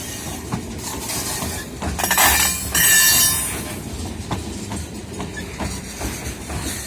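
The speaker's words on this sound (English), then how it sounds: "We found the end of the train just coming into town." A CN Rail freight train rolls into a small prairie town, its wheels and cars rumbling steadily nearby, with a louder surge of rattling and squealing metal about halfway through before it settles back to a steady roll.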